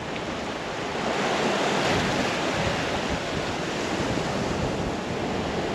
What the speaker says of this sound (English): Look at the waves coming from the back.